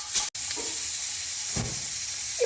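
Hot oil hisses steadily, with soft crackles and pops of mustard and cumin seeds spluttering close by and a sharp click near the start.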